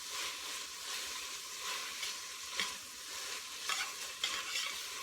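Onions sizzle and soften in a pan while they are stirred, giving a steady, quiet frying hiss with occasional louder scrapes and stirs and no talking.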